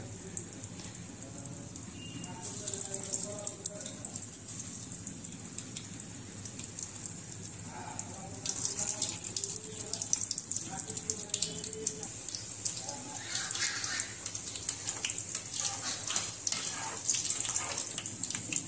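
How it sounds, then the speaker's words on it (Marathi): Dahi vada batter dropped into hot oil sizzles steadily for the whole stretch, a dense close hiss that swells louder about halfway through, with faint soft voices in the background. "तेल गरम झालेलं आहे। आता वडे आपण टाकून बघूया।"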